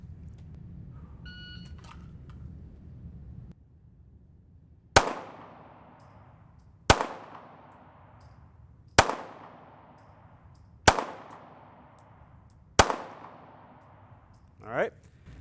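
Pistol shots fired at a USPSA target during a shooting drill: five sharp, loud reports spaced about two seconds apart, each with a short ringing decay, after a quiet low rumble.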